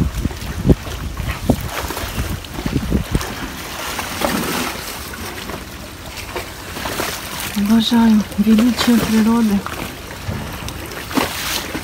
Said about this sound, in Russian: Шум волн очень успокаивает.